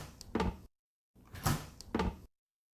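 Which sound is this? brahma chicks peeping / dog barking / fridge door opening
fridge door opening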